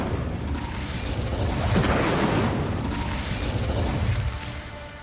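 An Incendio fire spell cast in Hogwarts Legacy bursts into a whooshing, rumbling blaze with a popping burst in the middle, sustained for a few seconds before tapering off, with no speech.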